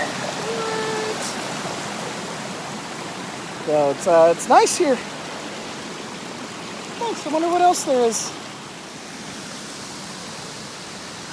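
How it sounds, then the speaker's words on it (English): A river tumbling over small waterfalls along the Old Stone Fort Trail, heard as a steady, broad rush that runs unbroken throughout, with two short bursts of people talking over it near the middle. "there's little tiny like waterfall things going on. Look at that rushing water."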